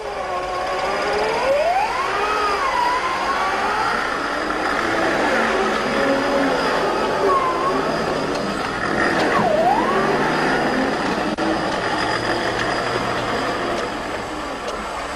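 An off-road vehicle's winch motor whines, rising and falling in pitch as it winds in cable, over a loud, steady engine drone that continues throughout.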